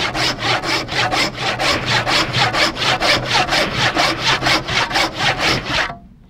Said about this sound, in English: the saw is tracking here, because it's going to follow the path of least resistance, which is the little kerf that you created